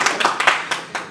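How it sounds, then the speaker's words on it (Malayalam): A small audience at a film press meet claps a few times, loose and uneven, with about six distinct hand claps spread across a second, nearby and fairly crisp. "ഇതൊക്കെ കൈയടിക്കാം."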